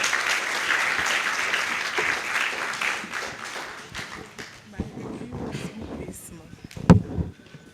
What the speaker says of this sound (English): A round of applause, a round of applause.